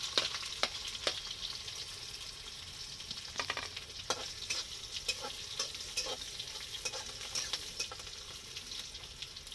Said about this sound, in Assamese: মই পিঁয়াজ দিলোঁ এতিয়া।